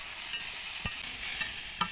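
Beetroot and potato fry sizzles in a pan on a clay stove while a utensil scrapes and stirs in a few sharp, irregular strokes, close up and without voices.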